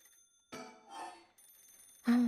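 A telephone ring in the video game Paranormasight, sounding as a few separate electronic bursts with a sustained tone at the end, moderately loud with no talking.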